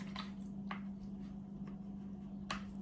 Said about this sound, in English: we're gonna rinse this brush out